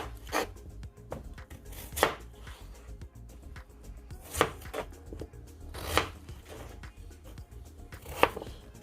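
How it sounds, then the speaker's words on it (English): A kitchen knife slicing a potato into cubes on a cutting board: sharp, close chops at a loose rhythm, roughly one every second or so, with no talking. "you just want to take the first slice of the potato and then you're going to do the same thing. Just slice it down the middle."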